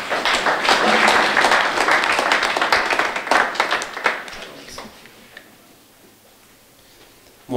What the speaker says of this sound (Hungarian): és nagy tapsot kérnék meg